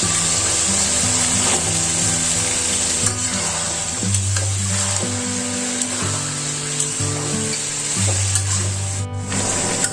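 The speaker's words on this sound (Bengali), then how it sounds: "এখন আমি ওর মধ্যে আলু বেগুন দিয়ে দিব" Potato and eggplant go into a frying spice masala for a hilsa fish curry. A strong, constant sizzle hisses under repeated spoon scrapes and clinks against the pan, close up and without talk.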